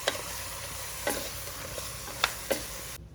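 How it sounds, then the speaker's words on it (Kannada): Mutton fries in a pan with a steady close sizzle, broken by four or five sharp scrapes and taps of a stirring spoon, before cutting off abruptly at the end. "ಸ್ವಲ್ಪ ಹಸಿ ವಾಸನೆ ಎಲ್ಲ ಹೋಗಬೇಕು ಅದ್ರದ್ದು ಚೆನ್ನಾಗಿ ಫ್ರೈ ಮಾಡ್ಕೊಳ್ಬೇಕು"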